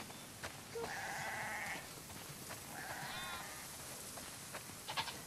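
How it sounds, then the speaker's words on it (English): Sheep bleating in The Last of Us Part 2, several drawn-out bleats from a few animals at moderate distance over a steady outdoor wind bed, faint and spaced out with short gaps between calls. "That's a lot of sheep."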